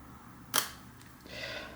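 A Leica rangefinder camera fires its shutter once, a single short crisp click followed by a faint softer mechanical whir of the wind, close and quiet in a still room.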